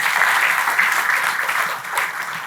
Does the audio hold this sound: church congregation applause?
yes